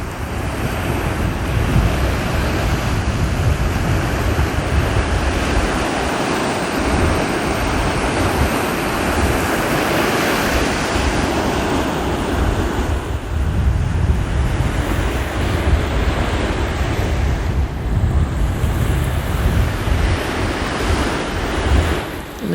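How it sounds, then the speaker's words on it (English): Ocean waves roll steadily onto a sunlit shore in a continuous loud wash of surf with wind noise over the microphone, close and unbroken throughout with no voices. "as the waves roll in."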